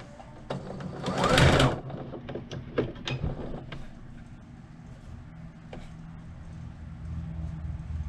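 A sewing machine stitches a fabric scrunchie together in a short, loud burst near the start, followed by scattered clicks and handling noises over a steady background hum.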